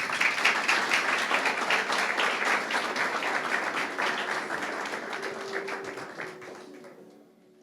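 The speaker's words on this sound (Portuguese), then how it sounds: "Vamos dar um aplauso ao Senhor" An audience at a church leadership-school graduation ceremony applauds during the diploma presentation, a dense, steady patter of many hands that gradually thins and fades out at the end.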